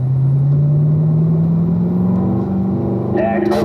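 A race car accelerates out of a turn on a track, its engine tone rising steadily and loud from the cockpit, with a voice talking over the roar.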